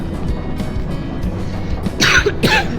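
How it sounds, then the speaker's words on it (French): Two loud, harsh coughs burst out close to the microphone near the end, following a stretch of low background noise with no talking. "Ah bah j'ai toussé, mais c'est pas grave."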